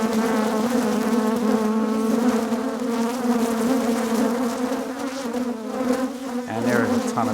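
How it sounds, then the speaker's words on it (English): Honeybees swarm in an open hive, producing a loud, dense, steady buzzing drone close by, with a low humming tone entering near the end. "And there is a ton of bees."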